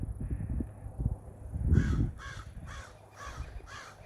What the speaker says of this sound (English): There's some birds over here greeting me